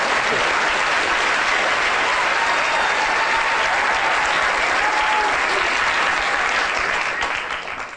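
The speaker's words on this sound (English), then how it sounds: "Can we have a big round of applause for the locust and Peter and Claire?" A lecture audience gives a big round of applause, a loud, continuous roar of many hands clapping that holds steady and starts to fade right at the end.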